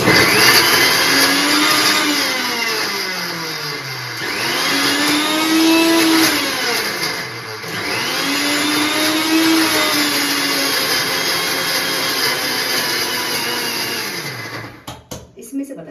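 A mixer grinder whirs loudly and steadily, its motor pitch dipping and rising as it pulses through several bursts before stopping.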